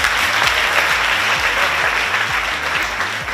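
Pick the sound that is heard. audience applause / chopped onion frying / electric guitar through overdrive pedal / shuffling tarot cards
audience applause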